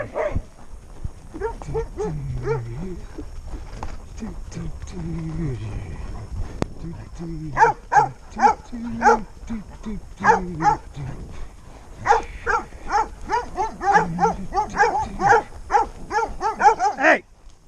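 Several dogs bark in repeated sharp bursts, close and loud, with a person talking over them at intervals during a thunder-filled day.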